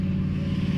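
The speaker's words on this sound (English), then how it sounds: "That was a noisy car." A noisy car goes past outside, a steady low engine drone at moderate volume heard alone, indoors at a distance, with no voices.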